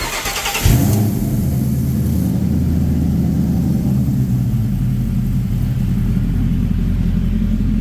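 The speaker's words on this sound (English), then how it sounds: "All right, so this fuel pump's a bit loud, but that's fine." Steady electric fuel pump on a 1970 Ford Mustang body-swap project, wired straight to the battery, humming continuously and fairly loud with a low rumbling drone that holds for about seven seconds after a brief start.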